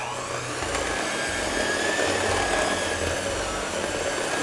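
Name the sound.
mixer blending banana bread batter with buttermilk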